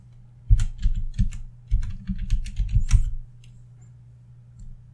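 Keys clatter on a computer keyboard as a disk-partition command is typed, a close, quick run of clicks in two bursts with short pauses, then a few stray taps fading off; no voices.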